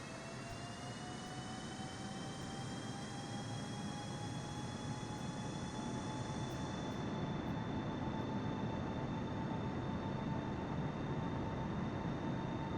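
A Captain Sim 777 jet takes off in the Microsoft Flight Simulator 2020 game, its engines giving a steady rumbling roar with rising whining tones that climb slowly, heard alone and fairly quiet throughout.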